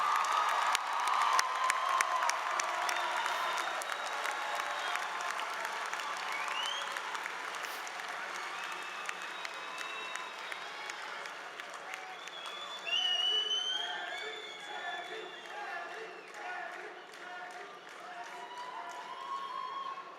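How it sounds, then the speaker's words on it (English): Graduation audience at the Cullen College of Engineering ceremony breaks into sustained applause with cheering and whoops, a steady roar of clapping from a large hall crowd that swells again near the end. "Everyone, please join me in a round of applause for our newest alumni"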